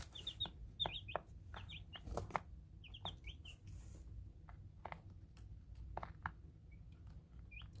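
Small chicks in a brooder, nine days old, give repeated high, short peeps and chirps in scattered bursts over a steady low background hum, close by and moderately soft.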